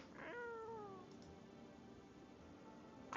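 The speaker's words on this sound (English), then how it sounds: "I can pick up the cat." A cat meows once in a video game, a clear drawn-out call that falls in pitch and fades, then leaves quiet background hum.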